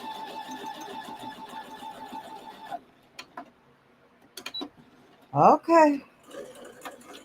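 A sewing machine stitching quilt blocks runs in a steady rapid mechanical patter for a few seconds, then stops. Sparse clicks and a short spoken word follow, then faint handling noise.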